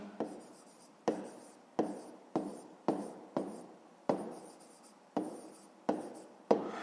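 Pen writing out a fifth-grade math solution on paper, heard as nine or ten separate scratchy strokes at a steady pace, close and fairly quiet, with no voices.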